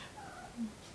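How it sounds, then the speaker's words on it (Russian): A cat gives a short, faint meow as it walks in, alone against a quiet room background. "Заходит кот."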